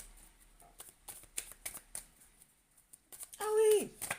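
Tarot cards shuffled and drawn, soft papery flicks and snaps repeating in short bursts while a voice speaks over them, ending in a brief louder tonal sound.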